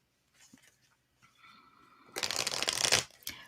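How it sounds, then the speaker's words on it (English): A new tarot card deck is shuffled, with soft light rustles and taps building to a brief, close, crisp riffle of cards. "I have been shuffling this beautiful new deck by Barbara Moore"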